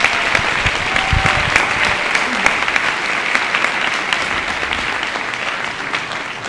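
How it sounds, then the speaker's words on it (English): At a high school winter band concert, the audience gives the symphonic band a loud, sustained wash of applause that carries on steadily with scattered louder claps. "How about another round of applause for the symphonic band?"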